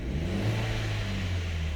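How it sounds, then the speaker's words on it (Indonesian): Jeep Compass Longitude engine running just after a jump start, a steady close-up mid-pitched hum with a low rumble and a slight rev, with no talking. "Bunyi mesinnya kayak gini."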